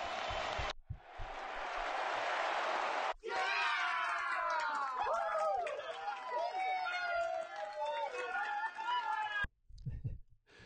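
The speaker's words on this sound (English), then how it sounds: "There's a great crowd cheer." A crowd cheering sound effect: a burst of noisy roar, a brief gap, then a long swell of many excited shouting voices that cuts off abruptly, followed by a short spoken voice.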